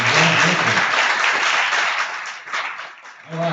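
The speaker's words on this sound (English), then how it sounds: "let's give another round of applause for Union's band director, Tim Frazier, Blake Gilbert, and John Henson" A high school audience applauds and claps for the band director, a loud dense burst that fades slightly then picks up again at the end, with brief speech at the start and close.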